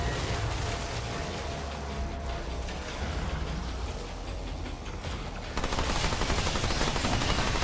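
Rapid automatic SMG fire in the video game Remnant 2 rattles steadily and densely throughout, growing louder and harsher toward the end amid mechanical clatter, with no voices.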